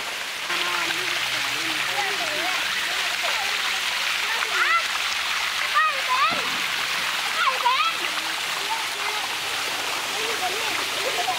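Water splashes and rushes steadily at Sai Yok waterfall in Kanchanaburi, a constant bright spray close by, while birds chirp and someone talks over it at times.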